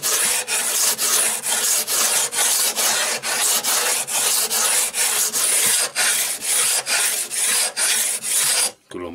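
A sharpening stone for chisels is rubbed flat in steady back-and-forth strokes, producing about fifteen loud rasping scrapes in an even rhythm, close by, with no talking.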